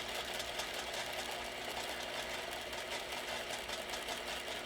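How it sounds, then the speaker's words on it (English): A drill press with a 1.5-inch Forstner bit bores slowly through cedar fence picket wood, giving a continuous, fairly quiet whirring drone with a faint rattling vibration throughout. "we can head over to the drill press"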